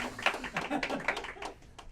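Panel audience at a fan convention clapping and cheering in a busy mix of claps and voices, moderately loud with crowd chatter throughout.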